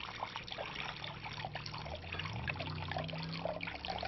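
Water trickling and splashing as it is poured and stirred into a salt and vinegar pickling brine, a soft close-up liquid patter that runs continuously and quietly.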